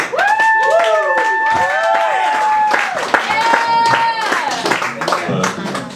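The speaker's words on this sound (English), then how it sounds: "Big hand of applause for Dillon Krause, everybody" An audience at an open mic comedy night claps steadily and loudly, with whoops and cheers rising over the applause for the full six seconds as the next comic is brought on.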